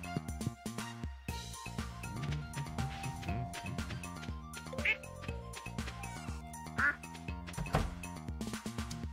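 Ducks quack in the farming game Stardew Valley, small chirpy calls scattered over busy, steady background game music, with a person talking now and then.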